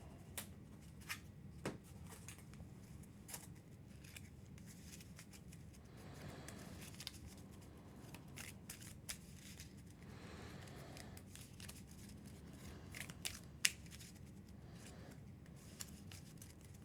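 Deck of cards for the Earthborne Rangers board game being reshuffled, a quiet, close series of soft riffling and tapping clicks spread through the stretch, with occasional sharper snaps as cards are squared.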